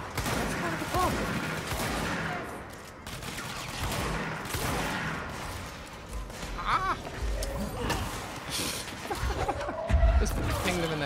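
Shotgun blasts from the video game Control crack through a dense, busy mix of in-game combat noise, with several shots spread across the clip at moderate loudness.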